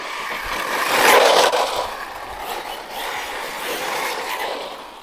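A Team Corally Syncro 4 RC car fitted with a 13-tooth pinion, running over a surface with a whiny electric motor buzz that swells and fades as it passes, mid-distance, with no talking.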